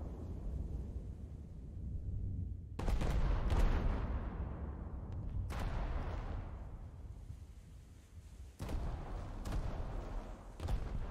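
Heavy naval gunfire from the Scharnhorst battleship in a video game: a handful of loud, booming salvos at irregular intervals, each with a rumbling tail over a low background drone.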